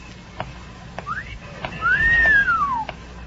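A woman gives a loud wolf-whistle at a man, a rising note and then a long arching whistle that falls away. A few soft clicks come before it, in a quiet studio.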